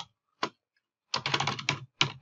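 Computer keyboard typing, a couple of isolated clicks followed by a quick burst of close, crisp keystrokes and a final tap.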